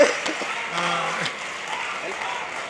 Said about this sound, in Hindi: तालियां जोरदार आनी चाहिए।